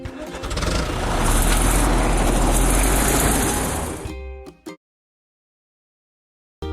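A bulldozer engine in a kids' vehicle-building video game rumbles steadily and loudly for about four seconds, then cuts off abruptly into silence, with a brief return at the very end.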